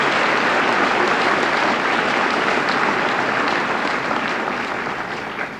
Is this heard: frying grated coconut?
no